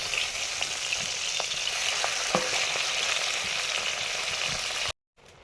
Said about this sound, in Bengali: একদম হালকা করেই ভাজবো।